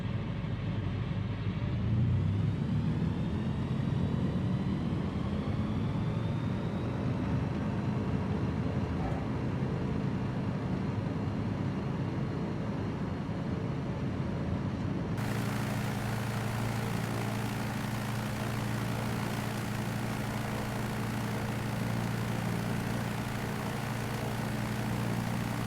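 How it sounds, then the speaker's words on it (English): Engine of a Rans S6S Coyote II light aircraft during its takeoff roll in a flight simulator, a continuous loud droning rumble that holds steady before the tone rises and brightens as power builds. "Okay, we are pretty much ready to take off."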